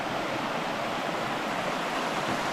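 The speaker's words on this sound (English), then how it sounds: "So the trail's on the other side of this river," The Little Carp River flows past in a constant, dense rushing wash of water, close and steady, with no voices.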